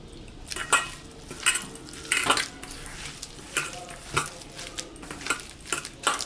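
Carrot pakora batter being mixed by hand in a bowl with a little water, giving irregular wet squelches and clinks against the bowl at an uneven rhythm, close and moderately quiet.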